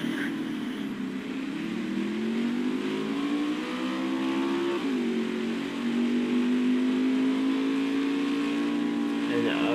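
NASCAR Xfinity Series race car engines roaring in a racing game at New Hampshire Motor Speedway, a steady loud engine drone whose pitch rises, dips and climbs again through gear changes, with commentary talk running over it.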